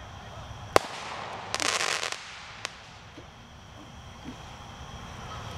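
Fireworks shot across a lake at a birthday celebration: a sharp distant bang, then a second of dense crackling bursts and another report, over steady outdoor background with faint voices.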